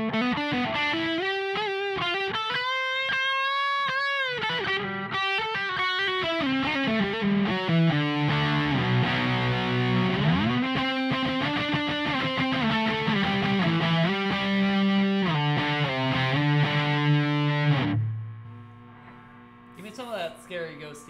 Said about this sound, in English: give me some lead tones, just like solos and stuff on the F50